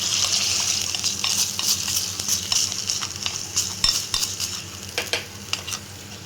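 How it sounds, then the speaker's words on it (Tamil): A hot spice tempering is stirred into banana flower kootu in a pan, giving a bright steady sizzle with scraping spoon strokes and light metal clinks near the end. "நான் இந்த தாளிப்பை இதில் சேர்த்துக்கிறேன்."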